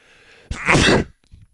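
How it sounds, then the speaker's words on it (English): A single loud, close human sneeze, a sharp intake followed by an explosive burst, then quiet. "I have to sneeze."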